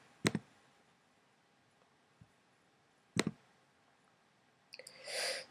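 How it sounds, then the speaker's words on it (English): Two sharp mouse clicks on a Mac computer, the first near the start and the second a few seconds later, each crisp and close, with a brief faint rustle at the end. "Just double click on it."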